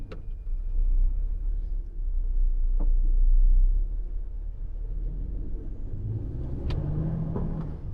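A car drives past on a busy, congested street, a steady loud road rumble that swells and fades, with other traffic and a faint distant horn-like tone mixed in.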